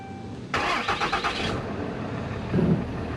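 A 2012 Ram 3500 with a 6.7 Cummins diesel cranks and fires after a battery swap, a loud roughly one-second starter grind settling into a low idle rumble, with a brief low thump near the end.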